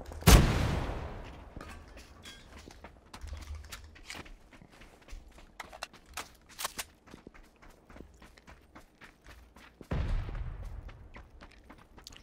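A grenade explodes in PUBG with a loud broadband blast at the start, followed by scattered footsteps and faint gunfire, then a second heavy blast near the end.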